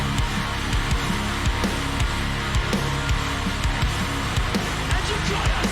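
Heavy distorted metal guitar from a song, chugging riffs locked with pounding drums in a dense, loud full-band mix with no voices over it.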